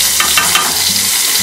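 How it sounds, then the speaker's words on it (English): Green chili and mustard seeds fry in hot oil with a loud, steady sizzle and crackle, close up and alone, with brief popping bursts near the start. "And I'm going to roast green chili."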